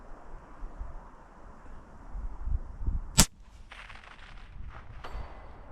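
A single sharp rifle report from a long-distance shot in windy outdoor conditions, a brief loud crack near the middle over steady wind rumble, followed by faint distant echo and rustle.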